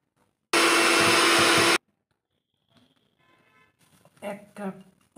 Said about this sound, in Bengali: হয়ে গেছে, এবার এটাকে ব্লেন্ড করে নেব।